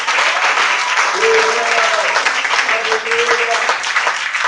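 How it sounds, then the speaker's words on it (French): A church congregation at a Sunday worship service applauds loudly and continuously, dense clapping filling the space, with voices calling out beneath it. "Est-ce qu'on peut l'acclamer très fort?"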